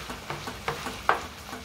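Seasoned ground meat for taco pie browns in a skillet, a soft sizzle beneath regular spatula scrapes and taps coming about every fifth of a second, close and clear, no talking.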